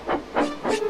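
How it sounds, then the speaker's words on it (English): A cartoon steam tank engine, Thomas the Tank Engine, wheezes out three short bursts of steam in quick succession, each a broad airy hiss from close by, with no talking. "He wheezed some steam as the last sheep was loaded."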